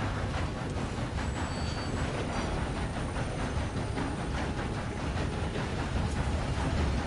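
Stolen train rumbling steadily along the tracks in the Red Dead Redemption 2 video game, a continuous broad roar of wheels and carriages with no pauses or distinct clanks.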